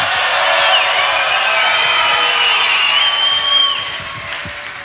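A large crowd at a Donald Trump campaign rally in Davenport cheers and whoops in a steady, loud roar, with whistles rising above it throughout.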